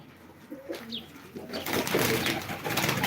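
Pigeons cooing and fluttering at close range at a pigeon auction, with a brief call early on and a rising wash of outdoor noise and wingbeats toward the end.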